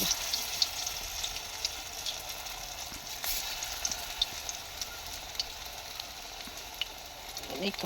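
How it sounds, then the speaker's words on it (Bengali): Pumpkin-flower fritters in gram-flour batter fry in hot oil, giving a quiet, steady sizzle scattered with small crackles and pops throughout. "কুমড়ো ফুলে বড়া ভাজা হয়ে গেল"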